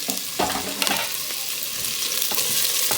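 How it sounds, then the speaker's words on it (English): Onions sautéing in a pan of hot oil, a close dense sizzle with several brisk scraping stirs early on, then a steady hiss. "I'm going to saute those"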